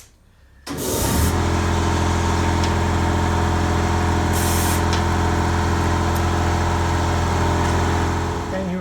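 A constant, loud hiss of a spray gun applying Waxoyl wax rustproofing inside a vehicle chassis runs after a short quiet start, with a steady compressor-like hum underneath and a couple of brief bursts.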